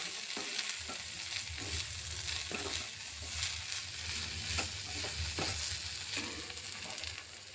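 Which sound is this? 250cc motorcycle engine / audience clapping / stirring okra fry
stirring okra fry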